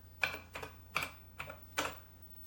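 Five crisp, evenly spaced keystrokes clack on a Heathkit H89 computer keyboard, close and distinct against a quiet background hum, with no voices.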